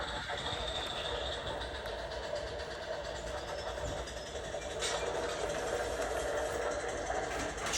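A toy train runs steadily along its track with a continuous rumbling, rattling whir that stays close and even throughout, with no talk over it.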